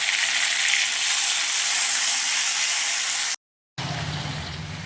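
Crab frying in a pan with ginger, garlic, onion and chili paste produces a loud, continuous sizzle that cuts out for a moment of silence, then returns slightly softer.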